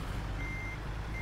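Steady electronic reversing beeps from a truck hauling large pipes in American Truck Simulator, a continuous tone over a low idling engine rumble, loud and close with no talking.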